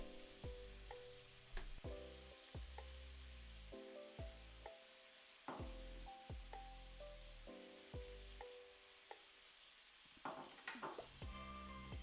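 Bean sprouts stir-frying for yakisoba in a hot pan, a steady close sizzle broken by repeated clanks and scrapes of a utensil stirring, with no talking.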